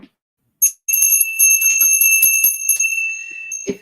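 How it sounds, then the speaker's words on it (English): A single bell is struck to close an evening soul spa session, ringing out clear and alone with a steady high tone that lingers for a few seconds, followed by a soft tap near the end. "I'm going to ring the bell."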